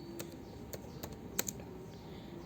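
Computer keyboard being typed on during data entry in MYOB accounting software, a few sharp isolated key clicks with one louder keystroke like Enter, close and clear against a quiet room.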